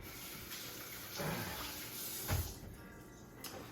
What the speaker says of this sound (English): Now we rinse our hands.